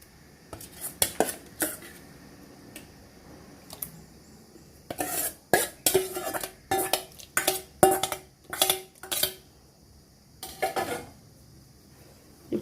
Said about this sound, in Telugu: మనం ఈ విధంగా పప్పు గుత్త రుబ్బేసుకోవాలి